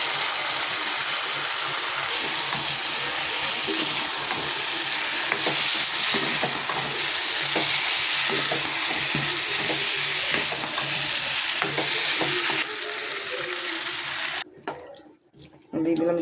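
Cauliflower and fried prawns sizzling in a pan with cumin, ginger and chili paste, constant hiss and clattering stirs, ending in a brief dip and a splash-like burst.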